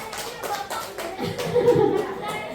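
A room full of people claps together for a couple of seconds, the steady applause mixed with a few voices and light chatter.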